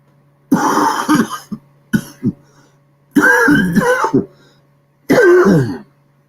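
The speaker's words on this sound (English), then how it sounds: "Cough it up. Cough it up." A person coughing and clearing the throat in several rough, loud bursts separated by short silences, close to the listener.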